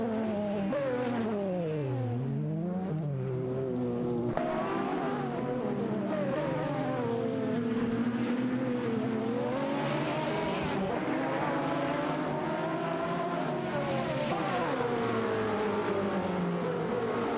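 Race cars in an AI racing video game whine past in sweeping, rising and falling engine tones, with several cars overlapping and pitch shifting as they pass, steady and fairly loud throughout.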